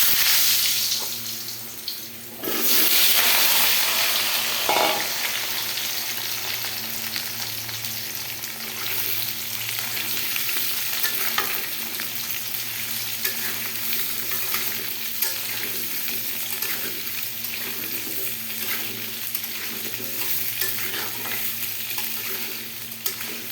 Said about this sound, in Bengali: তেলটা গরম হয়ে গেছে, এবার আমি আলুটাও ভেজে তুলে রাখবো।